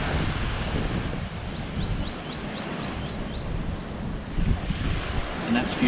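Ocean waves wash in at a Grenada beach under steady wind rumble on the microphone, with a short run of bird chirps partway through.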